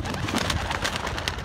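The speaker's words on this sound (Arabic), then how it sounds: "شوف طلعت الحمام" Racing homing pigeons coo in a loft, soft repeated throaty calls overlapping close by against a busy background.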